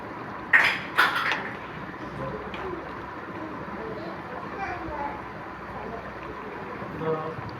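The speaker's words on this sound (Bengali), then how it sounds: "ভালো করে নাড়াচাড়া করে নেব।" Chicken being stirred with sour leaves in a cooking pot, hill-style, with a couple of sharp utensil clanks against the pot early on, then soft scraping and a steady low background murmur.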